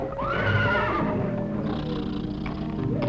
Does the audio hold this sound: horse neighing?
yes